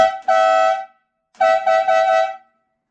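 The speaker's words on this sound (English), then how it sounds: "So, that's my horn" A very loud car horn bolted onto a lawnmower blasts twice up close, a short honk followed by a longer, slightly stuttering one, with silence between.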